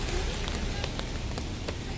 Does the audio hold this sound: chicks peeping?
no